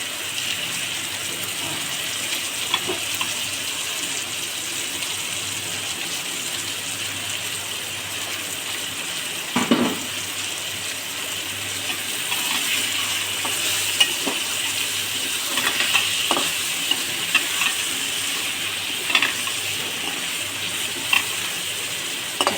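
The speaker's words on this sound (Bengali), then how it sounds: "এখন ওই হালকা একটু নাড়াচাড়া করে জল দিয়ে দেবো" Pangas fish being stirred in a pan with a soft continuous sizzle, scraping touches and a brief splash as water goes in around the middle, then steady cooking hiss.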